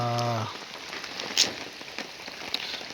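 Rain falls steadily on a farm, a soft continuous patter with a few sharper drips standing out, beginning just after a short hum at the start.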